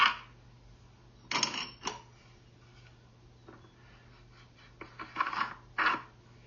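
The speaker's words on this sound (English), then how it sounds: "So now we'll put all these spool clamps into the holes that are in the mold." Metal spool clamps being dropped into holes in a wooden guitar mold while the top is readied for gluing: sharp metallic clinks and clatters in scattered bursts, close by, with quiet pauses between them.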